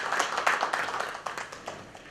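Audience clapping at a book launch and poetry event in Jaipur, a brisk burst of many hands that swells and then thins out over two seconds.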